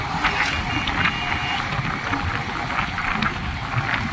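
A motorcycle engine runs steadily nearby while being ridden, a continuous low rumble with a slightly fluctuating mid-range drone throughout.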